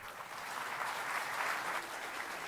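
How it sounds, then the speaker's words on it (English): Sustained applause from a large audience fills a hall as the Prime Ministers of India and Israel leave the India Israel business summit in New Delhi, a steady dense clapping throughout. "let's bid them adieu with a huge round of applause"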